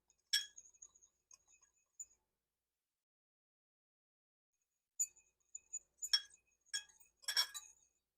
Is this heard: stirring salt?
yes